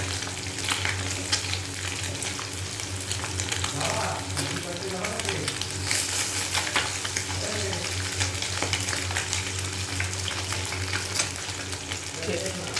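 Small whole fish crackle in a pan of hot oil, a continuous loud sizzle with scattered pops and occasional light scraping as they are turned, while brief quiet talk surfaces in the background.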